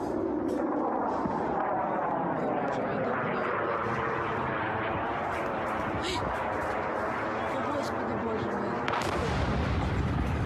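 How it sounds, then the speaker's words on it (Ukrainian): Rapid, continuous bursts of air defense gunfire rumble from the sky during a Russian attack near Kyiv, with a steady drone behind them and a sharper crack near the end. "Чуєте зараз у небі звуки ППО"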